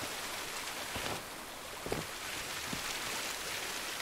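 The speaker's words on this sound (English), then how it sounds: "I can't hear him because of the waterfall." A steady, broadband rush of a waterfall in the pirate video game Sea of Thieves, loud and continuous throughout with no talking over it.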